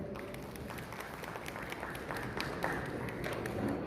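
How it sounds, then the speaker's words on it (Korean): Steady, dense applause from a seminar audience at a hotel fair brand presentation, many hands clapping evenly at a moderate distance for several seconds with no single voice standing out. "박수를 사실 유도할 필요가 없이 알아서 이제 받으셨기 때문에"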